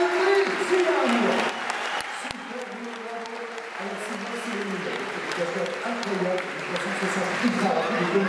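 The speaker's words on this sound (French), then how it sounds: "je vous demande un tonnerre d'applaudissements pour notre héros" Crowd at a live car stunt show in a Disneyland Paris arena applauding the driver, a broad clapping roar that fades back as an announcer's amplified voice talks over it.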